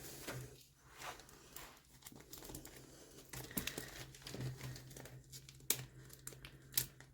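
Plastic and paper packaging of a large diamond painting canvas crinkles and tears as it is pulled open, with irregular rustling bursts and sharper rips close by, no talking.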